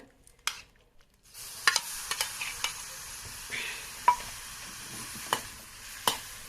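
Crushed onion, curry leaves and green chilli fry in about a spoon and a half of coconut oil, a soft steady sizzle broken by several sharp spoon clicks and stirring scrapes, close and alone with no talk.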